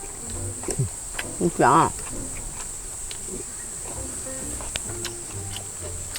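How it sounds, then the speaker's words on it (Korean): Grasshoppers and other insects buzz and chirp around a campsite in Bukhansan National Park, a steady high hum running throughout with a few brief rustles, while a person speaks briefly near the start. "엄청 많아, 메뚜기."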